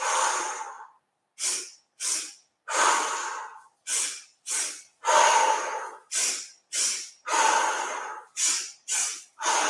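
Rhythmic breathing during a beginner Pilates barrel exercise, a dozen sharp, close breaths alternating with short pauses in a steady cycle of exhales and inhales, no talking.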